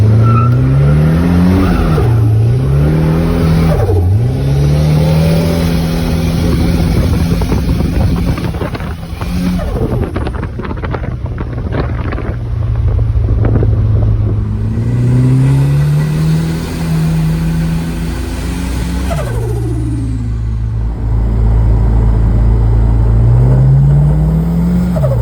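A rebuilt Mitsubishi Sigma Turbo on the road, its engine note rising and dropping through repeated gear changes, revving hard, easing off and pulling again, loud and close with steady road roar beneath.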